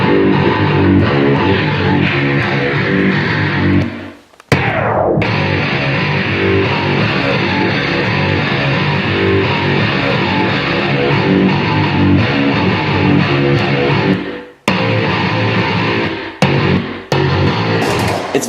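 Recorded bass guitar tone from a multi-effects unit, a dense, loud, continuous layered sound with heavy low end and lots of mids, broken by a couple of brief dropouts, with no talking.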